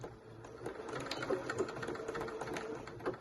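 A sewing machine back-stitches fabric for a draw-string bag, giving a steady, close, continuous whirring hum with a quick mechanical rattle and no talking.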